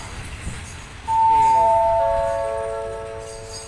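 Passenger train number 251 at Ratchaburi station in Thailand sounds a loud, sustained horn blast that begins suddenly after low rumbling and slowly fades as the train departs.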